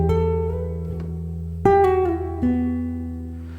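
Clean guitar phrase from a piece, close and alone: a held note, then a sharply plucked note that slides down and pulls off, letting the last note ring out.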